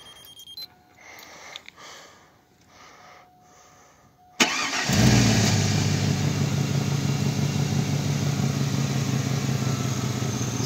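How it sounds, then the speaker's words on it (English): A 2000 Chevy Silverado truck is remote-started, a few quiet clicks and beeps followed by the engine firing abruptly and settling into a loud, steady idle close by. "And I'm going to use the remote start so you guys can listen."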